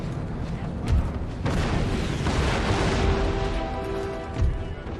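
Cannon artillery salvos in the Empire: Total War strategy game, a couple of heavy booms rising out of a continuous rumbling battle din, with someone talking over the gunfire.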